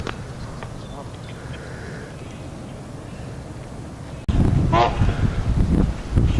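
Geese honk at a bird sanctuary where a swan is also present, a few calls over steady background noise, then a louder, nearer burst of honking toward the end.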